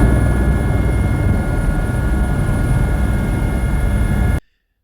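Helicopter flying over hunting country in New Zealand, a loud steady rotor and engine drone held close throughout, then cutting off abruptly near the end.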